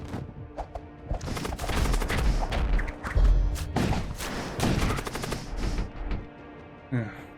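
Weapon fire in the space combat game Void War: rapid bursts of gunfire and heavy thumping impacts, dense and loud through most of the stretch. The barrage eases off near the end.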